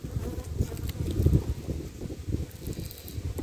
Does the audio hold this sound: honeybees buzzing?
yes